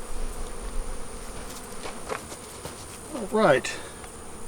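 Honeybees buzzing around hive frames during a queen install, a soft steady hum with one louder buzz close by near the end, and a person speaks briefly.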